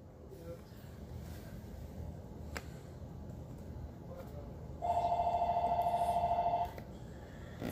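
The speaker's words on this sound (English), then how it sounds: "Phone!" A telephone rings in one sustained, bright electronic burst partway through, loud against a quiet, noisy room background with faint sounds of people around it.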